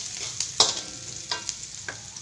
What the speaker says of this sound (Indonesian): tumis hingga bawang merah dan putih ni layu